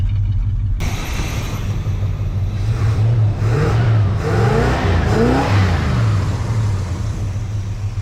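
A Plymouth Road Runner, back on the road after 25 years and smoking blue, has its engine revved while being tuned by ear: a loud, close rumbling idle rising into several throaty revs that swell and fall back.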